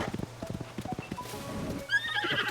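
Horse hooves thud in a quick galloping rhythm across open ground in Tears of the Kingdom, followed by a sharp, fairly close whinny near the end.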